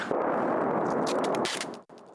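Artillery shelling explosions on a street in Bakhmut in January 2023: a loud, sustained roaring blast fills about one and a half seconds, then thins out and cuts off briefly, with no voices.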